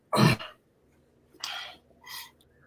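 A single sharp, explosive sneeze burst up close, followed by two softer breathy sounds after short pauses.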